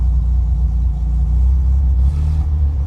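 A 1981 Sbarro Baby Ferrari with a 4-cylinder Volkswagen engine idling, a loud, close, steady low rumble with a slight rise near the end.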